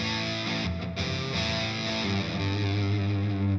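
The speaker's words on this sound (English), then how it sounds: "this is the more aggressive side, with zero fuzz, so only engaging the pedal" Heavily distorted electric guitar through a Dophix Medici More Fuzz pedal, fuzz knob at zero, plays sustained, buzzing chords with a thick fuzzy tone, loud and continuous with a brief dip in the middle.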